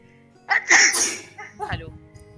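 A sharp, close sneeze bursts out, followed by a softer breathy trailing sound, in an indoor setting.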